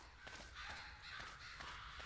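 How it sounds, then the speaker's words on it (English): Crows cawing in the post-apocalyptic survival game 35MM, a few harsh, drawn-out calls repeating over a constant low ambient drone, faint and distant, with no talking. "Birds."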